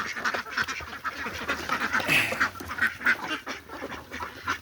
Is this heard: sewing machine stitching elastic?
no